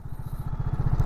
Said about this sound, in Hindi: एक और बाइक आ रहा है,